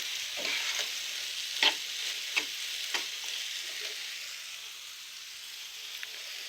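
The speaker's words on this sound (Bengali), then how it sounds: "এখন আমি এগুলোকে ভালোভাবে ভেজে নেব, একদম শুকনা শুকনা করে ভেজে নেব।" Boiled potatoes frying dry in oil in a pan, a quiet hissing sizzle with several scattered scraping clicks from stirring, fading slightly toward the end.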